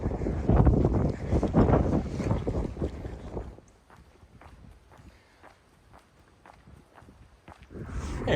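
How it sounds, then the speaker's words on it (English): Gusty wind buffets the microphone outdoors on a road near a playground, loud rumbling bursts at first that drop to a lighter rustle with scattered footstep-like thuds, then swell again at the end. "it is windy today"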